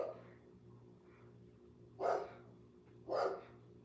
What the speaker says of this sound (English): another dog walking by, I can tell